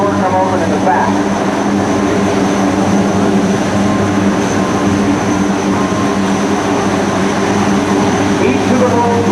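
A Lockheed C-130J transport with four Rolls-Royce turboprop engines performs at an airshow, a steady loud turboprop drone with a tonal whine running throughout, while a voice talks over it.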